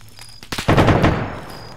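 A short burst of gunfire in a military video game campaign, a few quick loud shots followed by a rolling echoing tail that fades out.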